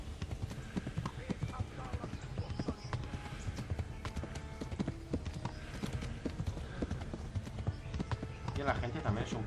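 A horse gallops in Kingdom Come: Deliverance, its hooves drumming in a fast, continuous clip-clop rhythm under busy game noise and someone talking throughout.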